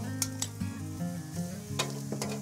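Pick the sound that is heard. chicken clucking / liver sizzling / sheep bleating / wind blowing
liver sizzling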